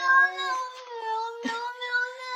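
A neighbor's cat yowls near the porch in a drawn-out, wavering caterwaul with a brief sharper cry midway, loud and close.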